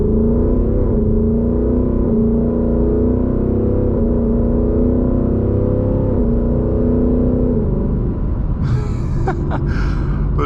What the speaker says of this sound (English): we're gonna put in an S here when we take off from this light and see how it shifts in sport mode